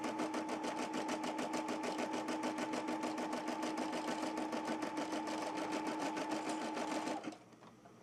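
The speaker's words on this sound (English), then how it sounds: "So you can see now it's doing a tack down stitch where we've placed our heart." Brother SE400 embroidery machine sewing an appliqué tack-down stitch around a heart, rapid steady mechanical clatter with a constant whirring tone, close by, stopping abruptly near the end.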